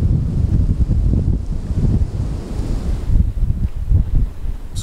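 Strong wind gusts over a wide river, buffeting the microphone in rough, uneven surges with a watery wash beneath; no speech.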